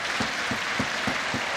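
A crowd at a CS:GO major watch party breaks into rhythmic clapping and cheering, about five evenly spaced claps over a dense, roaring wash of noise.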